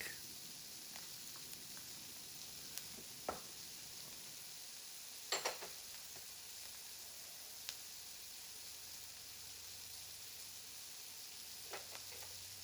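Yellow onion and garlic sizzle softly in a pot for a one-pot seafood and sausage jambalaya, a faint steady hiss broken by a few small clicks and pops.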